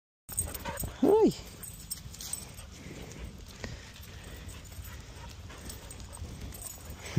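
A beagle lets out a single short howl or whine outdoors on a walk, fairly close and loud, followed by quieter rustling, footsteps and faint background activity.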